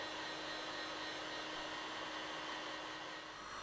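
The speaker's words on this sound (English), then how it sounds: "You can use the hot air gun to blow wax around on the hot plate." A hot air gun blows continuously for encaustic wax art, a steady, even whooshing roar of airflow with a faint motor whine underneath, unchanging throughout with no talking.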